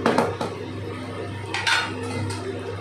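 Soaked rice being added to a boiling tomato mixture in a cooking pot for tomato rice, with a few metallic clanks and scrapes of a spoon against the pot over a steady low background.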